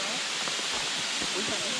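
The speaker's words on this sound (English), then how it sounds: "Here must be the 94 waterfall." The 94-foot waterfall at Ricketts Glen State Park roars as a dense, even wash of falling water, steady and fairly close.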